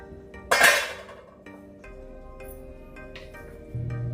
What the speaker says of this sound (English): Give that one last stir.